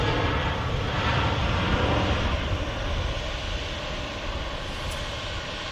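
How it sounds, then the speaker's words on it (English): An Emirates A380 airliner taxiing at Manchester Airport, a broad, steady engine roar that stays loud and even throughout, slowly easing slightly toward the end. "Emirates A380 taxiing past on the way out to London Heathrow"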